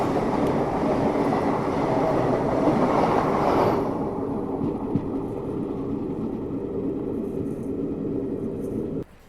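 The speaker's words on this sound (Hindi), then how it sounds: "हमारी यहाँ पे क्रॉसिंग हो रही है अमनदोरा वंदे भारत एक्सप्रेस से" A train rumbles past close by with a loud continuous roar and rattling wagons while crossing the Vande Bharat Express on the Srinagar to Delhi route; the noise drops sharply midway and a steadier rolling hum continues until it cuts off.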